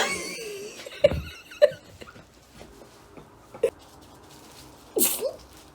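A single sharp sneeze bursts out near the end of a quiet indoor scene during a home hair-dyeing session, preceded by a few soft squeaky vocal sounds and scattered small noises.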